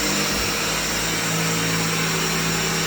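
A large vacuum cleaner runs on carpet during end-of-tenancy cleaning, a loud steady motor roar with a constant hum that fills the whole stretch without a break.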